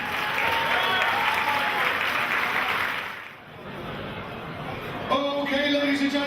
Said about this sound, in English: Round of applause for both fighters.